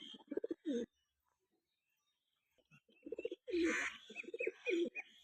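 Pigeons at a loft coo in low, throaty bursts, a couple of short calls, a pause, then a longer run of rolling coos close by.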